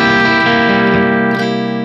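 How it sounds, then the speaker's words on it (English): An E dominant seventh chord strummed once on guitar, ringing out rich and sustained for about two seconds with a slight re-attack near the end, loud and alone. "this is the sound of a dominant seventh chord."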